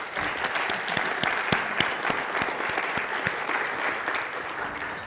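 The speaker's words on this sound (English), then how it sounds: "Big round of applause for our panel." An audience at a tech conference applauds a panel, dense sustained clapping filling the room.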